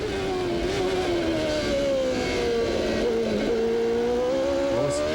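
A 1994 CART Indy car at Elkhart Lake, its engine feathered on the throttle out of the slowest corner and then opened up, a loud sustained high-revving drone with shifting pitch, heard up close and alone.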